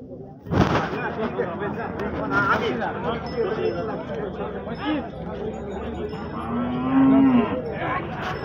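Cattle moo repeatedly amid a busy crowd of chattering voices at the Deulgaon Raja bull market, with a sharp thud near the start and a long moo near the end.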